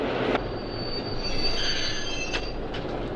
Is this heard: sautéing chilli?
no